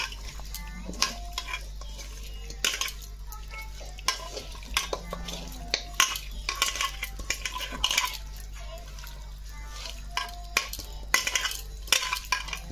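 Chicken being mixed with refined oil and garam masala powder in a bowl, a run of uneven wet squelching and clinking strokes, close and irregular, over a low steady hum.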